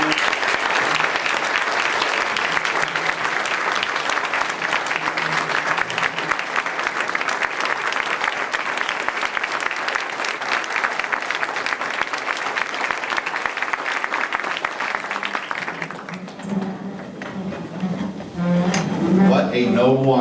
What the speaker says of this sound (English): we applaud you, sir.